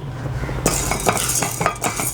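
A spoon stirs a tablespoon of chana dal dry-roasting in a heavy pan, giving a close, continuous scraping and rattling with quick metallic clinks as the lentils are turned.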